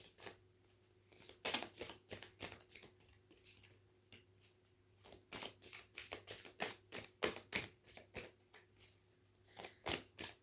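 Tarot cards being shuffled in repeated quick bursts of riffling and slapping, close by but quiet, with brief pauses between rounds.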